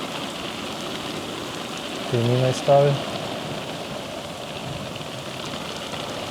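Steady rain falls outdoors as a constant, even hiss that fills the whole clip, with a short stretch of people talking partway through.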